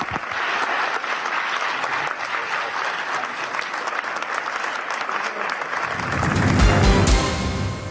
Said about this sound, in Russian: Зал стоя аплодировал украинскому президенту.